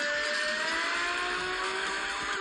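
A loud, steady car engine in the mobile video game Need for Speed: Most Wanted roars continuously with a throaty exhaust drone, holding a high rev with slight pitch shifts throughout, no talking.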